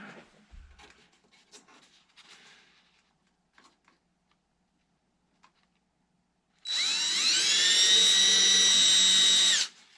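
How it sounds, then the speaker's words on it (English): After several seconds of faint handling noises, a power drill spins up loudly, drilling pilot holes while assembling a Sebart Extra SX 61-inch model airplane, whining steadily for about three seconds before stopping. "we're going to drill a couple pilot holes."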